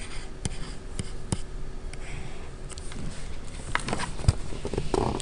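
Handwriting during a math lesson on nth roots and rational exponents: a steady, quiet scratch of writing strokes with occasional sharper taps, close by and with no talk.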